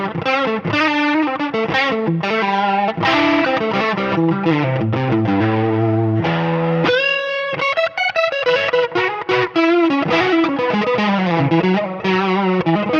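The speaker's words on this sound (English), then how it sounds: "You can hear that warble come back in now." Electric guitar played through a Line 6 Helix chorus effect with distortion, a fast melodic lead with a shimmering warble on each note, loud and close, phrases running continuously without speech.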